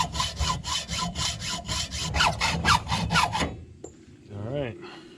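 A tractor PTO shaft is cut to size with a hand saw, a steady run of loud rhythmic back-and-forth rasping strokes nearby, about fourteen in a row, then the sawing stops and a brief whirring sound follows.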